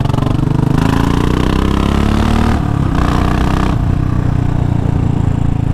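A Royal Enfield Classic 500 Limited Edition with a single-cylinder engine thumps loudly and steadily at close range, its low pulsing beat rising briefly as the revs climb, with no talking.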